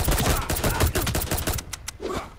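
Rapid bursts of gunfire from the video game Midnight Fight Express, a dense fusillade of close, loud shots for most of the moment before tapering into a few scattered reports.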